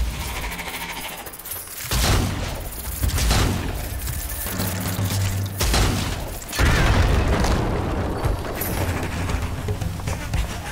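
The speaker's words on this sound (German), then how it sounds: "Granate." Several heavy booms from grenade blasts in the video game Strange Brigade, set in Egypt, come in bursts between stretches of game noise and battle clatter.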